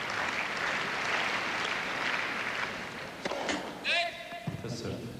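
Tennis crowd at the 1994 Masters semifinal applauding before a point, a broad wash of clapping that fades out, followed by a few thumps and ball bounces, with commentators talking over it.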